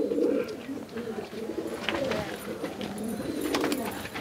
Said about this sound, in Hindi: यहाँ कुछ कबूतर है